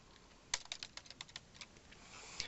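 Someone types a name on a computer keyboard in a quiet room, a short run of about a dozen close, crisp key clicks with uneven rhythm and a brief pause, then one last keystroke.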